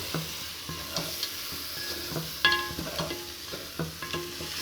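Meat sautéing in a pan, a soft bed of sizzle with repeated scraping and tapping as it is stirred at an irregular pace, close but fairly quiet and with no voices.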